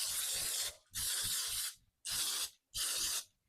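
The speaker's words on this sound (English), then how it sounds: "she also sprayed the pan as well" Cooking spray hisses onto a pan for popovers in four close, loud bursts, each about half a second long with short gaps between, no voices.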